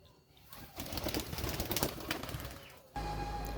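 Wings flap in a quick burst as a Giribaaz-line pigeon is let go by hand, a close, soft fluttering that rises and fades within a couple of seconds.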